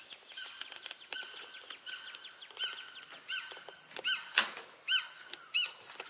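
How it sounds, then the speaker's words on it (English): Several birds call and chirp in bursts against a steady outdoor hiss at Paynes Prairie Preserve wetland, Florida, with sharper, louder calls near the end. "Here a bird."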